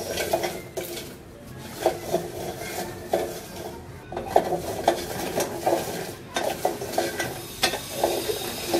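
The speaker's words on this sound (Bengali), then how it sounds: "তো বিচিগুলি প্রায় আমার ভাজা হয়ে আসছে" Jackfruit seeds frying in a pan while being stirred, a soft sizzle broken by repeated scraping and clattering strokes of a utensil against the pan.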